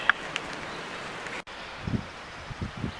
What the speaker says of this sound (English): Windy little valley.